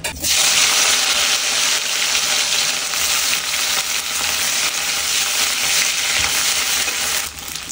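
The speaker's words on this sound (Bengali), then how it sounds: "এই তেলের মধ্যে আমি শুটকিগুলোকে ভেজে নেব" Dried Bombay duck fish frying in mustard oil in a wok: a loud, dense, continuous hiss and crackle right up close, steady throughout and fading slightly at the end, with no voices.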